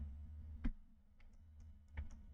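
Computer keyboard keys pressed while working in an Excel spreadsheet: a few sparse, quiet clicks over about two seconds, two slightly firmer presses among lighter taps, against a low background hum.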